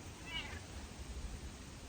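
A cat gives a single short, faint meow near the start, over steady low outdoor background noise in a garden bed being cleared.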